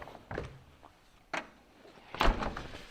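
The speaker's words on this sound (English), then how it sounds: "shut the door" A door is shut in a home gym: a sharp thump near the middle, then a louder closing knock and rattle near the end, with softer handling bumps at the start.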